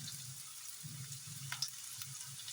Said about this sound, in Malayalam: അതേ വെളിച്ചെണ്ണ ചൂടായിട്ട് നമുക്ക് സവാള ഇട്ട് കൊടുക്കാം